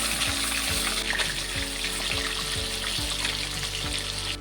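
Rui fish rubbed with salt and turmeric sizzles in a pan after being flipped, a continuous moderate hiss with faint crackles and no talk.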